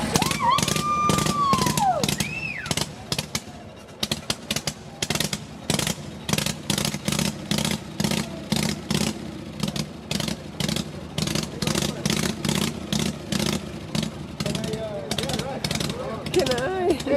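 An antique motorcycle at a Sturgis, South Dakota rally running with a loud, close, rapid mechanical chatter and steady engine throb that holds throughout, with people talking nearby underneath.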